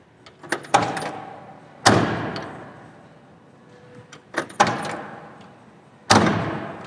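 Doors on a 1968 Chevelle being shut several times, each a solid close thud with a sharp attack and lingering decay, preceded by lighter clicks and handling sounds, close and loud.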